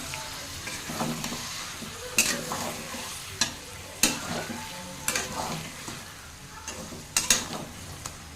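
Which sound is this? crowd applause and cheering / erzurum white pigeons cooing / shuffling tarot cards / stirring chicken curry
stirring chicken curry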